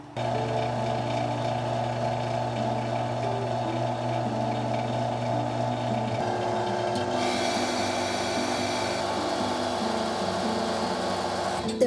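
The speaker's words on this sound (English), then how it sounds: "Now I'm going to put it on the vacuum table." A vacuum table pump for jewelry casting investment hums steadily and loudly without pause, with the tone shifting partway through as it keeps running.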